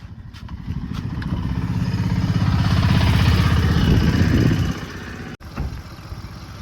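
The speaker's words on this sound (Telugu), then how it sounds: "ఇప్పుడైతే ఇంజన్ అయితే ఆన్లో ఉంది, మీరు చూడవచ్చు, ఇంజన్ సౌండ్ వినొచ్చు" Engine of a 2015 Hyundai i10 running with the bonnet open, a loud steady idle with dense low rumble close by, dipping slightly near the end.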